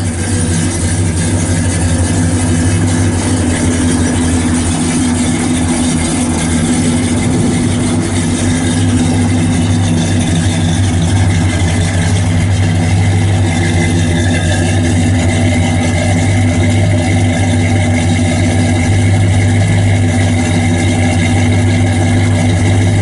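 A 1967 Pontiac GTO convertible idles through headers and dual exhaust, giving a loud, steady, deep rumble that runs unbroken and close by, with a slight rise in revs partway through.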